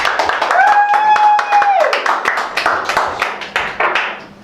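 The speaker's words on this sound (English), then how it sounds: "A big round of applause for Johnny for setting up this whole event." Scattered hand clapping from a workshop audience, uneven taps stacking up with a whistle-like tone sliding through early on and voices mixed in, fairly close and loud.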